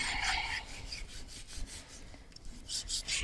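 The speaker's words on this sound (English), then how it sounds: "So we're going to trim off some of this fat." A knife trims fat off pork for kalua pig with quiet, rasping strokes and soft rubbing scrapes, repeated in short bursts.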